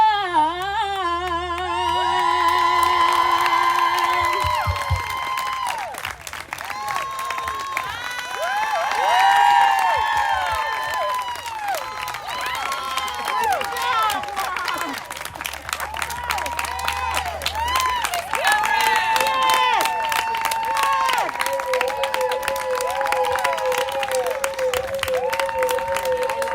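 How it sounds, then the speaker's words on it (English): An audience at a Juneteenth celebration at Princeton applauds and cheers after a live performance, clapping and whoops rising and falling, mixed with a voice and sustained musical tones throughout. "Another round of applause, please"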